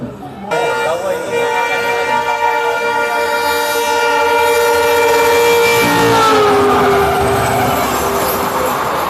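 The 64511 MEMU train departs Ambala Cantt, heard from on board as a loud, sustained horn blast with layered tones over rumbling motion, followed by the rising roar of the train gathering speed.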